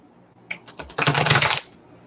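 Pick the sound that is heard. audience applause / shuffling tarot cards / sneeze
shuffling tarot cards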